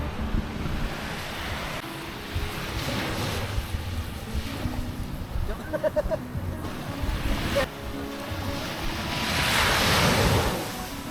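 Sea waves roll in at a beach campsite at Tres Marias, Lian, Batangas, with continuous surf wash and wind buffeting the microphone. The surf swells louder toward the end, with faint voices now and then.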